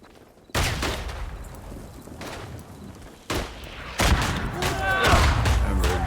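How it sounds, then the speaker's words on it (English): Grenade explosion and bursts of rifle and machine-gun fire in the World War I shooter game Tannenberg, loud booms and rattling volleys in close succession, with voices talking over parts of it. "they got too smart, they threw a grenade"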